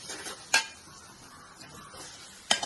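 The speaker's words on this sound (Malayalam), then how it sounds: "നമുക്ക് ഇങ്ങോട്ട് മസാലകൾ മിക്സ് ചെയ്യാം" Onions with spices being mixed in a pan for chicken curry, soft scraping and a low sizzle with two sharp spoon clacks against the pan, near and fairly quiet, no voice.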